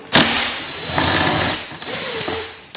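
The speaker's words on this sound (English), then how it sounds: "Let's just unscrew that 10mm hex socket." A socket wrench works a 10mm hex battery terminal bolt loose on a 2025 Zero SR/F electric motorcycle, giving a few short, close mechanical ratcheting clicks and scrapes.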